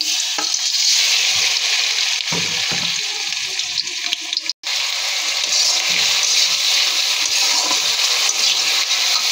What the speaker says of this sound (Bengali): পেঁয়াজ ভাজা হয়ে গিয়েছে।